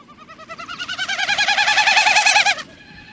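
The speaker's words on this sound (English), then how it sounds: "That is non-vocal. That is just the tail feathers." A displaying bird's outer tail feathers produce a non-vocal winnowing during its dive: a fast, wavering pulsed hum, loud and sustained, that cuts off abruptly near the end, with no other sounds over it.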